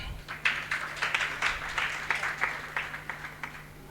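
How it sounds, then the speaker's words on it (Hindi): A crowd claps steadily in a sustained round of applause, with rhythmic bursts over a low background hum. "मेजर साहब के लिए पुनः एक बार तालियां।"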